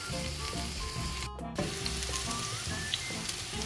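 Aubergine pieces sizzle steadily in hot oil in a pan while being stirred now and then, a dense continuous frying hiss with a brief louder scrape partway through, close and alone.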